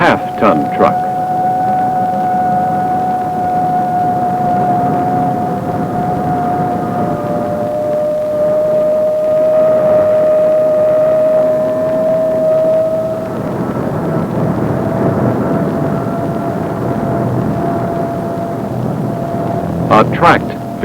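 An AN/PPS-5 ground surveillance radar from 1968 renders a moving 2.5-ton truck as a continuous audio tone, a steady whine gliding slightly in pitch over dense rumbling noise, loud and unbroken for about twenty seconds, with a few short clicks near the end.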